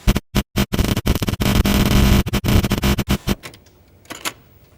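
Music stored as computer code on a cassette tape, played back on an ordinary tape machine as harsh, loud bursts of screeching data noise in choppy stop-start blocks, then trailing off into faint hiss.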